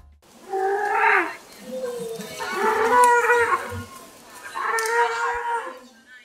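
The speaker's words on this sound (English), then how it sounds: "It's a pelican." A large bird gives three drawn-out, low, moaning calls, each rising and falling, close by with faint background noise between them.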